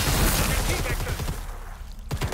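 Rapid gunshots fire in the video game Predator: Hunting Grounds, a loud, dense burst of repeated shots over heavy game noise that thins out briefly near the end before another sharp hit.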